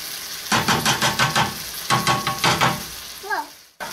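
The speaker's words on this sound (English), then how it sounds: "Okay, I'm stirring it just," A chicken and sausage risotto is stirred in a pan, giving rhythmic scraping bursts over a soft sizzle, in two runs of repeated strokes, followed by a brief squeaky sound and a sudden clunk near the end.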